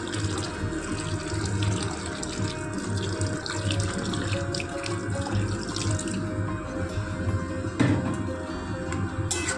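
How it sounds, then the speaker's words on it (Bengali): Water runs steadily from a tap into a pot of chana dal with Malabar spinach and jackfruit seeds, a continuous close splashing rush lasting throughout, with no talking. "এবার আমি এর মধ্যে দিয়ে দেব জল"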